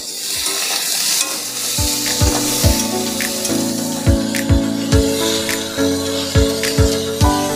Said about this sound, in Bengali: আমাদের সবজিটা ভাজা হয়ে গেছে।